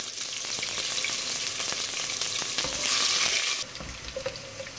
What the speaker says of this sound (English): Add chopped onions and fry till golden brown.